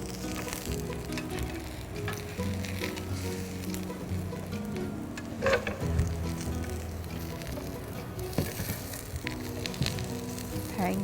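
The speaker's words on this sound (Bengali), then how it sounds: "আর হালকা করেই ভাজতে হবে" Eggplant slices frying lightly in oil in a pan, a steady close sizzle with occasional clinks and stirring sounds throughout.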